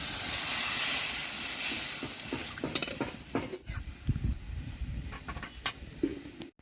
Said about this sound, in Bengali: ঝোলটা ফুটতে শুরু করেছে